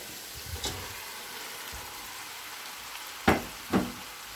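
Mutton pieces for aloo gosht go into a hot pan and sizzle steadily, with a few sharp knocks and scrapes of stirring breaking through the frying hiss.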